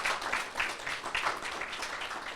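Scattered clapping from a small crowd, uneven and moderately near, fading slightly toward the end.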